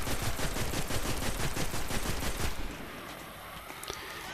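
Necrochasm auto rifle firing in the Destiny video game, a rapid steady burst of loud shots for about two and a half seconds, then a quiet tail with a faint click.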